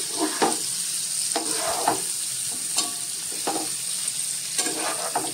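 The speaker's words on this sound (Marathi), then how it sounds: "आता हे भेंडे आपण या तेलामध्ये सोडलेले आहेत फोडणीमध्ये." Okra sizzles and crackles in hot tempering oil, with a steady frying hiss broken by occasional scraping stirs of a spatula in the pan.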